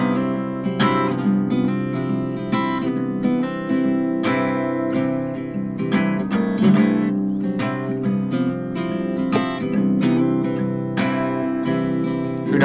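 Acoustic guitar in an unusual alternate tuning plays a song with strummed and picked chords ringing full and bright, played alone, close up and continuous.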